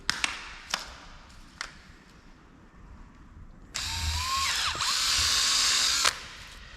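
A few sharp taps, then a power drill whirs loudly for a couple of seconds, its pitch rising as it spins up, close by.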